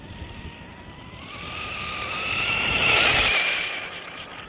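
A Tamiya Grasshopper RC car tuned past 80 mph screams past at full throttle, its high-pitched electric whine climbing and swelling louder as it nears, then fading as it goes by, with no talking.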